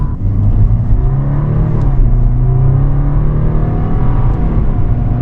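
A 2025 BMW 330i engine revs loud and close inside the cabin, rising in pitch as it accelerates, then briefly dipping at a gear shift before climbing again in a steady, continuous drone with no talk.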